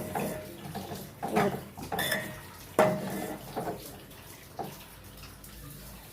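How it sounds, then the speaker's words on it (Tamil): Water is poured into a pan where chili powder is sautéing, bringing soft splashing and clinks of utensils against cookware, fairly quiet and close, in a kitchen during the making of a fish curry. "அதுக்கு கொஞ்சம் கீழே அடி பிடிக்காமல் இருக்கிறதுக்கு கொஞ்சம் தண்ணி ஆட் பண்ணிக்கணும்."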